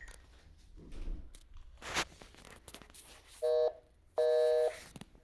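A phone call being placed sends out two short, steady electronic tones, each about half a second long and separated by a brief gap, over quiet background noise.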